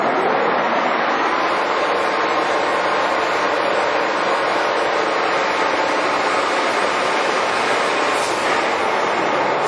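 A Giddings & Lewis 340T heavy-duty horizontal boring mill spindle turning at 1175 RPM, giving a steady, loud, continuous broadband whir and hum that stays even throughout, with no talking.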